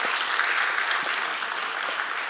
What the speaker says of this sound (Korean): 함께 박수로 격려하고 위로하는 시간 갖도록 하겠습니다.